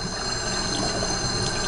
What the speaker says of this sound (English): Once you do that, you should be able to rinse it all the way through and the water come out the other side.